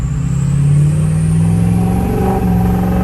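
Modified, deleted and studded 6.0 diesel truck engine running while driving on a country road, a loud steady drone with a faint spitting note from the injectors and a slight rise in pitch.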